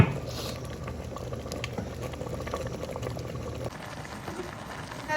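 Pongal simmering in a pot, steadily bubbling and reducing with a continuous close-up patter of boiling, unbroken for several seconds with no talk.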